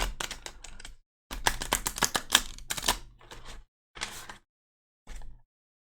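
Tarot cards shuffle in the hands in brisk riffling bursts, crisp close-up rattles broken by short silent pauses.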